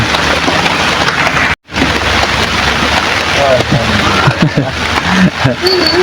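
Heavy rain patters densely on a small fishing boat's covering during a stormy camping trip, steady and close with a brief dropout, while a few faint voices and small knocks sound beneath it.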